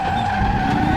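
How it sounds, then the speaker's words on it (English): Tyres skidding and squealing under front-wheel lock-up of an Aquila CR1 race car in RaceRoom Racing Experience at Portimao, a steady loud screech with a tonal whine over engine noise, continuous for the whole second. "We've seen front locking going into Portimao."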